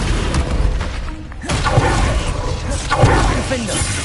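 Descendo spell in Hogwarts Legacy slamming down: heavy booming thuds and crashing impacts over a busy game soundscape, with a couple of sharp hits and a voice speaking through it.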